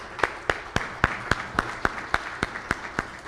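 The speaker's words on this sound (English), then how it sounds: "let's give them a round of applause." Applause at a 40th anniversary celebration of a brain injury association, heard as a sparse, evenly spaced run of crisp claps at a steady rhythm over a low murmur.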